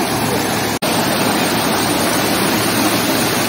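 Heavy rushing water pours steadily over Tara Dam in Chakaltor, Purulia, after two days of rain, a loud continuous roar broken only by a momentary dropout near the start.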